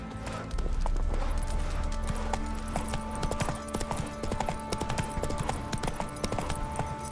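Horse hooves clip-clop steadily in The Witcher 3: Wild Hunt, a quick rhythmic string of close thuds over game ambience, with a faint whinny-like sound and some talk.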